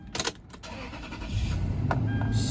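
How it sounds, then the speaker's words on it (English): A 2006 Toyota Sequoia V8 engine cranks briefly and catches, settling into a steady low idle rumble that continues to the end. "start her up."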